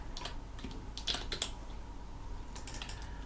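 Typing on a computer keyboard at a Linux desktop, a few scattered light keystrokes in short clusters, fairly quiet against a steady background hiss.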